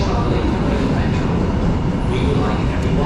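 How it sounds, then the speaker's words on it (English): Tyne and Wear Metro train pulling into a station platform, a steady loud broadband rumble and rail roar filling the whole stretch, with a voice faintly present underneath. "1713 Tyne Wear Metro service to Newcastle Airport."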